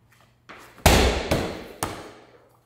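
A medicine ball thrown in a baseball catcher's shot put drill, landing in three heavy thuds spaced about half a second apart, loud and close, preceded by a softer impact.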